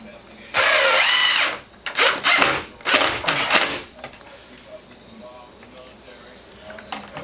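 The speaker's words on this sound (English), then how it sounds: "It's always best to pre-drill." A power drill bores pilot holes in wood while a door is being installed: one loud, close whine runs for just over a second, then several shorter bursts follow before it drops to quiet handling noise.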